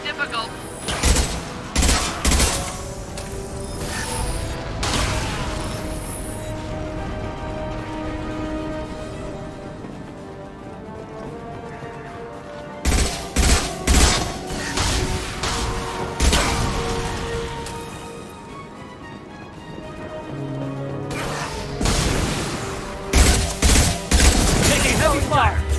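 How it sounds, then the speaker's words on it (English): Video game gunfire in repeated loud bursts of rapid shots and booms, separated by quieter stretches of ambient game sound and music. "Taking heavy fire."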